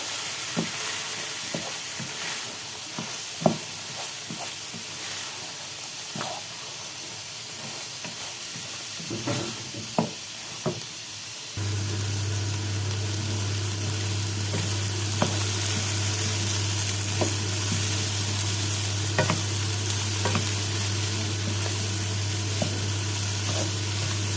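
Rice stir-fried in a pan while Peking duck pilaf is being made, giving a steady loud sizzle with scraping stirring strokes throughout, close and without talk.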